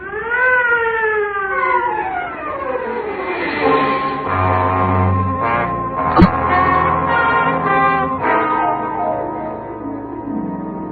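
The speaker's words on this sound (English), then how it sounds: "Clear the way for the ambulance." Ambulance siren in a vintage radio crime drama, sounding loud and close with wailing tones that slide downward and repeat, joined by a clanging bell-like hit midway and continuing as a busy street effect.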